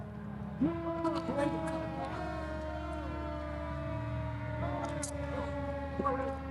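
A siren wails with sweeping, wavering tones during a St. Patrick's Day parade. It sounds moderately far off and sustained, with some voices underneath.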